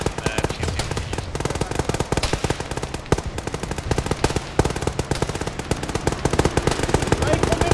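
Rapid machine gun fire in a military video game rattles in dense, continuous bursts, close and loud, with a voice briefly heard amid the shooting.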